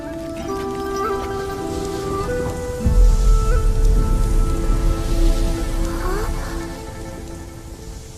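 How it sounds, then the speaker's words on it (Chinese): Steady rain patters and hisses on surfaces, with a low rumble swelling partway through, set under a sustained tonal musical score. "要下雨了吗？"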